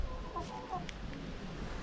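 Hens cluck softly nearby, a few brief low calls over a steady background hum on a small island homestead.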